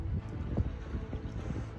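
Wind blowing outdoors on a lake in Croatia: a steady low rumble buffets the microphone throughout, with faint water and boat noise underneath and no voices.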